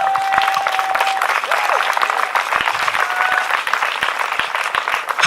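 A church congregation applauds to acclaim the Lord, with loud sustained clapping from a large crowd, scattered voices and a few sharp tones mixed in.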